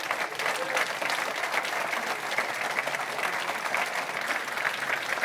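Conference audience applauding the event's sponsors at the opening of a hacker gathering, a steady, dense wash of many hands clapping that holds evenly for several seconds with no pauses.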